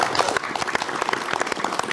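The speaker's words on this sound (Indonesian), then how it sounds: "kita kasih tepuk tangan dong" Audience applause on an Indonesian talk show as guests enter, a short burst of many hands clapping, loud and close, with distinct slaps standing out in the crowd.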